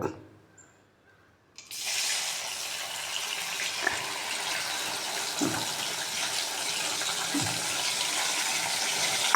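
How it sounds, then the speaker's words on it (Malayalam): Crushed erukku leaf juice poured into oil heating in a pan for homemade murivenna, a sudden steady hiss and gush starting after a quiet moment and running on with a few soft knocks, close and fairly loud, no talking. "നമ്മൾ ചതച്ചെടുത്ത എരിക്കിൻ്റെ നീര് ഇതിൻ്റെ അകത്തോട്ട് ഒഴിക്കുക."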